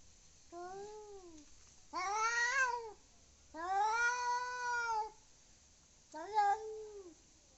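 Cats yowl and caterwaul in a series of drawn-out, rising and falling cries, four separate bursts with brief quiet gaps, fairly close.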